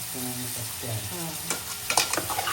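Dried bombil fish and potato stir-frying together on a high flame, a constant hissing sizzle up close, with a low hum early on and a few quick scraping stirs near the end.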